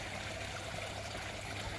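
A steady, quiet wash of trickling, bubbling water from a pump aerating a small duck pond system, continuous and even throughout with no voices.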